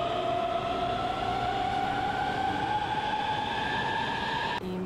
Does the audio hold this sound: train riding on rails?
yes